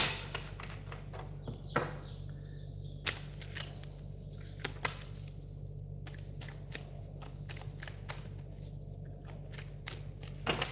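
Tarot cards shuffled by hand, giving soft riffling and sliding ruffles with occasional sharper flicks over a low steady hum, quiet and intermittent.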